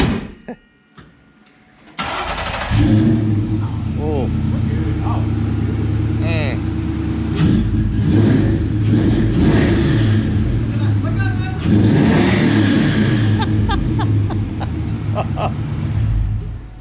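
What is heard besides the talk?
car engine revving through full exhaust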